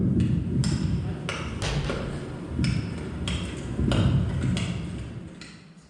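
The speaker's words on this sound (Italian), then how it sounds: "si sente il rumore del vento e la gente che martella e che cerca di estrarre" Repeated hammer blows from people hammering outdoors in Indonesia ring out at an irregular pace over a steady rushing wind, the strikes moderately loud and somewhat distant.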